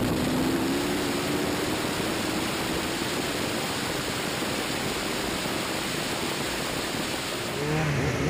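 Onboard an Ariel Atom V8 during a drag race on track day tyres, a loud, continuous engine and wind roar held steady across the run with a rising tone near the end.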